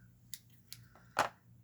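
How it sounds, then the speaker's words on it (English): Small scissors snip a few quick cuts while building a miniature witch's bookshelf, three faint sharp clicks ending in a louder close crunch, heard alone in a quiet room. "my scissors are pretty shitty"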